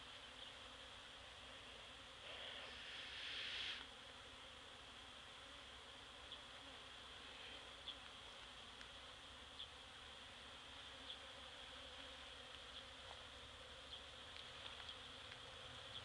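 Continuous buzzing of many honeybees close by around a hive, a steady drone with a brief louder swell early on as one passes near.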